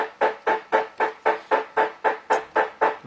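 Synthesized snare drum built in Reaper, a dry snappy hit repeating about four times a second in an even, steady pattern, loud and alone.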